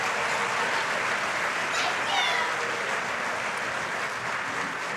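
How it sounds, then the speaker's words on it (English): Steady applause from an audience at an elementary honor choir concert, thanking a school choir; the clapping is dense and even throughout, with a faint brief squeal near the middle. "One more round of applause"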